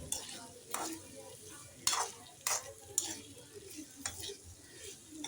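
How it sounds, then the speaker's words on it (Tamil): Raw mango pieces tossed with salt for an instant pickle are stirred in a bowl, giving soft, scattered scraping and clinking strokes, fairly faint and close. "நல்லா அந்த மாங்காய் எல்லாத்துலேயும் படுற மாதிரி நல்லா கிண்டி விடுங்க"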